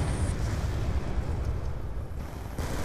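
Lightning Strike airstrike explosions in Call of Duty Black Ops 2 roll together into a dense, continuous rumbling barrage, loud and unbroken throughout, with no voices over it.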